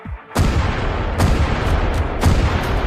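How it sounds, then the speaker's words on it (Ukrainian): Three powerful Abrams tank cannon blasts fire in quick succession, each a sharp crack followed by a thundering roar that carries into the next, loud and close. "Коли російська бригада заходить у село, Абрамси відкривають вогонь."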